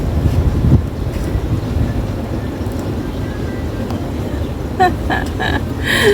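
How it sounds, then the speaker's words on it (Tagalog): Strong wind buffets the microphone in a steady, rumbling roar outdoors, with a few faint higher sounds near the end. "Super windy na. 2:30 pa lang pero mahangin na."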